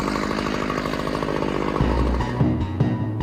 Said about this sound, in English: what you'll use is like a chainsaw, which has a carbide blade on it